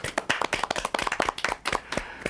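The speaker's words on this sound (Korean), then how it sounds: "작은 박수나 보내드리고 싶네요" Small group of studio audience members clapping briefly in a television studio, a quick ragged burst of hand claps, close and lively, lasting about two seconds with no talking.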